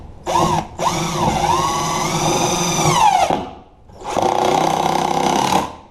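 A power drill drives number 9, 2.5-inch deck screws to mount a refrigerator cabinet, giving two sustained whirring bursts, the first lasting about two and a half seconds with pitch sagging as the screw seats, then a second steady run after a short pause.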